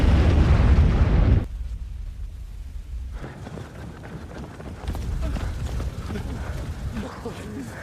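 A landmine explosion in the war film Land of Mine: a loud, deep roaring blast that fills the opening second and a half, then cuts to a quieter rumbling aftermath with low noise and scattered movement.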